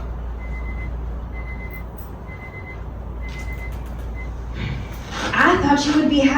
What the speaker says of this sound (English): How long are you gonna keep ignoring that alarm?